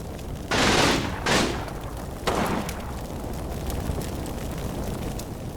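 A machine gun squad in Combat Mission Final Blitzkrieg fires three short, rough bursts in quick succession that fade into a steady rumbling battlefield background with scattered distant crackle.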